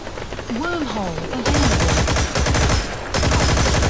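Rapid automatic gunfire from the Metal Gear Online multiplayer game: loud, dense bursts of shots running nearly continuously, with a short break between volleys, while a voice with a rising and falling pitch comes in near the start.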